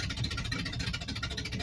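An engine idles roughly just after starting while still picking up fuel and running loud, a close, steady pulsing rumble with a slightly uneven beat and no voices.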